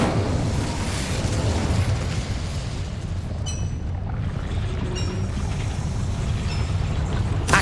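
Incendio fire spell cast in Hogwarts Legacy, a dense roaring whoosh of flame that runs steadily for several seconds, with crackling bursts and no talking.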